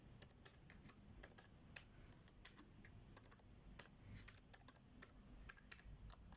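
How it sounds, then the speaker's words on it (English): Fast typing on an ASUS Strix Scar 17 gaming laptop keyboard: a steady run of crisp, close key clicks with irregular rhythm, quiet and alone. "And even when you're typing on the keyboard as well,"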